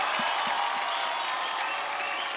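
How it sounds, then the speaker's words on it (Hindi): A studio audience at a televised dance competition applauds loudly and continuously, a dense, even roar of clapping with no break. "एक बार जोरदार ताली हो जाए"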